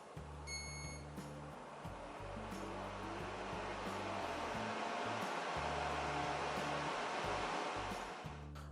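A Bardi air purifier with UV sterilizer runs its fan motor at a set speed, giving a steady, continuous whoosh of moving air close by, with a few brief electronic beeps near the start.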